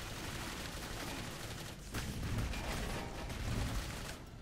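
Dense, continuous gunfire in the first-person shooter Clive Barker's Jericho, a rapid barrage of shots and booms that roars steadily throughout without pause.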